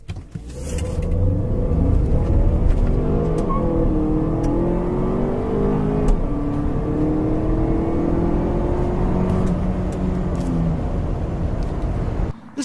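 A 2015 Volvo XC60 accelerates hard, its engine note climbing steadily through the gears with a continuous close, loud drone and rising harmonics, with no talking over it.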